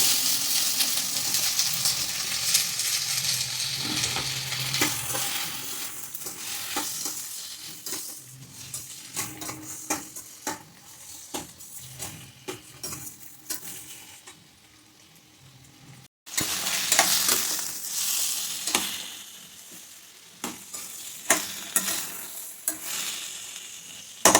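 Sliced ivy gourd (kovakkai) sizzles in a pan while being stir-fried like a potato fry, with steady frying hiss and frequent scraping and clinks of a metal spatula against the pan, moderately close, with no voices.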